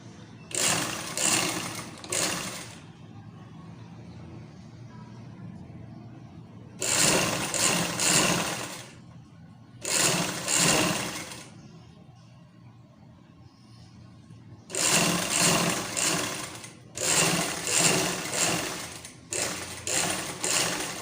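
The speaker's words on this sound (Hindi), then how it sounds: "इसको भी हम फोल्ड करके हम सिलाई लगाएंगे" A sewing machine stitches a folded fabric piece for a hair band, running in several loud, rapid mechanical bursts separated by quiet pauses, with no talking.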